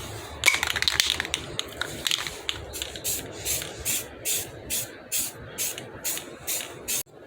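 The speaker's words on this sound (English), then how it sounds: "Do one more coat on this side of the rim." Primer sprays onto a wheel rim in short rhythmic bursts of hissing aerosol, about a dozen evenly spaced puffs, close and fairly loud, with a few rattles of the can at the start.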